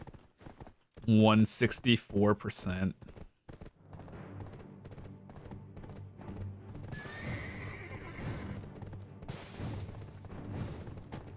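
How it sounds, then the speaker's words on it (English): Horse in the online game Black Desert: a loud neigh and whinny up front, then steady rhythmic galloping hoofbeats at moderate volume, with a voice briefly speaking. "God, this horse is so slow."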